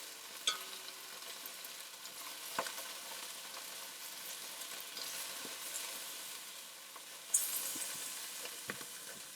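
Beef chunks browning in a pan for beef bourguignon, a soft, steady sizzle of frying meat with occasional clinks and stirring scrapes, quiet and close, no voices.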